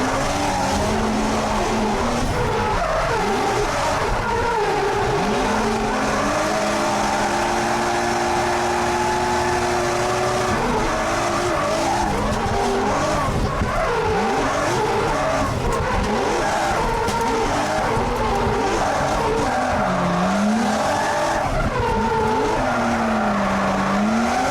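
Toyota JZX100 Chaser driven hard, engine revving and tires squealing through slides, loud and continuous with rising and falling pitch sweeps across the whole stretch.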